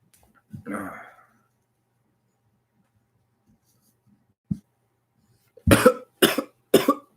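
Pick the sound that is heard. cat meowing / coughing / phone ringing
coughing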